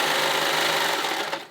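A sewing machine runs steadily, stitching a neckband onto the bodice of a tunic or dress, with a continuous close whirr that eases off near the end.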